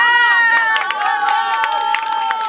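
A festival audience breaks into high, excited cheering and shouting, with a few scattered claps, close and lively for a couple of seconds.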